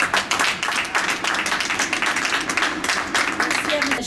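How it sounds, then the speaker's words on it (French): Crowd applause at a community thank-you gathering for Moroccan earthquake relief, with dense clapping filling the space and voices murmuring underneath throughout. "Bravo, applaudissez."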